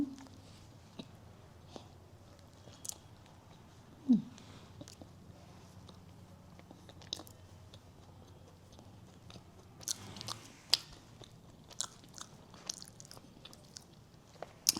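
Close chewing and biting on a spoonful of Nutella hazelnut spread at home, soft wet smacks and small crunches scattered irregularly over a quiet background.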